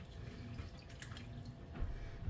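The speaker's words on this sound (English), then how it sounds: "I'm going to take our concoction here and pour it all over these soon to hopefully be pickles" Pickling liquid pours over cucumbers in a container, a soft, steady trickle and drip of liquid that runs continuously and swells slightly near the end, close and fairly quiet.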